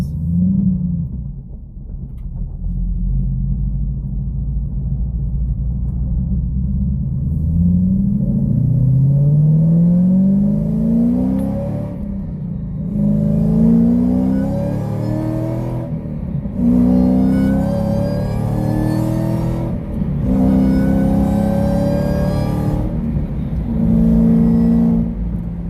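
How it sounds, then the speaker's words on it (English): A powerful Shelby GT500 engine revs up repeatedly from a deep idle rumble, with a rising high-pitched supercharger whine climbing on each rev. "Definitely get a lot more supercharger whine."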